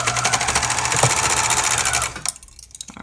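A serger sewing machine stitches doll clothes, a raglan shirt, with a loud, steady close-up mechanical whir that runs for about two seconds and then stops, leaving quiet fabric handling.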